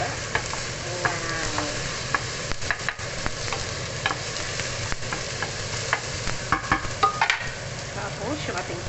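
Tomatoes sizzle in a hot frying pan while being stirred for pork sinigang, a steady crackling fry broken by scraping utensil strokes, with a brief spoken exclamation.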